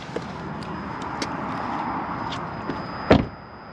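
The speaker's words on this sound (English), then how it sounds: "Very solid sounding doors to this vehicle as well." A single door of a 2022 Jaguar XF R-Dynamic SE shuts with a solid thud near the end, over a steady low background hum with a faint high whine.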